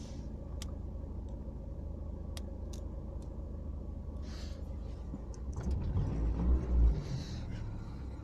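A 2000 Renault Twingo Alize engine idles with a steady, low, even rumble and a few sharp clicks. The rumble swells briefly louder toward the end, then settles back.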